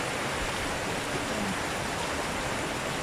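Heavy rain falling in the Philippines during a stretch of bad weather, heard as a dense, steady, even hiss that does not let up over the few seconds, fairly quiet overall with no voices.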